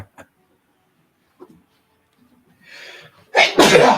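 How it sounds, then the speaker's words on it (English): A single loud adult sneeze near the microphone, preceded by a short sharp breath-in after a few faint quiet sounds. "Now that was a sneeze."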